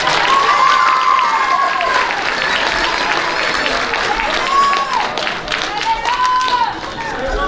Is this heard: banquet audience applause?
yes